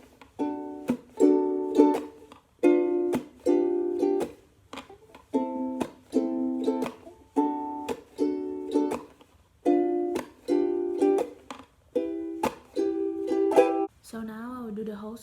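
Ukulele strumming the chord pattern of a song, bright rhythmic strums in short repeated phrases with brief gaps, close and clean.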